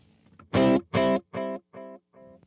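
An electric guitar note rings out and repeats through a delay with no modulation as a series of clean echoes, each fainter than the last, steady in pitch without wobble.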